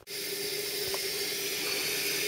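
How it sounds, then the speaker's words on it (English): Water pours steadily from a gravity siphon hose into a sink, a constant, close rushing flow that holds even and unbroken throughout. "So there you have it, the water's running."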